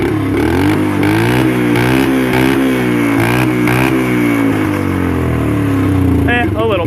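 Suzuki LT 125 ATV engine idles and runs steadily with a loud, close, even putter, its pitch rising and falling slightly, while someone talks over it throughout.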